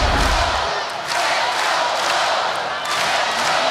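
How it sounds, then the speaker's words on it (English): Loud, sustained roar of a volleyball crowd cheering in an arena during a Hawaii Rainbow Wahine match against UC Irvine, a dense wall of voices with surging swells throughout. "The crowd turning up the volume knob."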